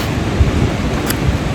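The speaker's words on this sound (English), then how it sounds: "It's pretty windy today." Wind buffets the microphone out on the Appalachian Trail, a loud, rough low roar that holds steady through the moment with a few soft thumps.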